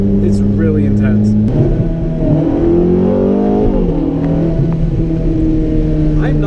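A 2007 Ferrari F430 Spider accelerates hard in race mode, its engine note climbing loudly and cut by an abrupt, jolting gearshift before pulling again; a person talks over the engine.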